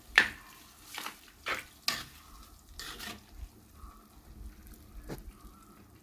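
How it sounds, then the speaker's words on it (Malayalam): Kerala-style beef curry simmering in a pan with ghee rising to the top, heard as scattered soft bubbling pops and brief spluttering bursts at irregular intervals, fairly quiet and close. "ഇപ്പോൾ കറി ഒന്ന് തിളച്ച് വെന്ത് വരുവാണ്"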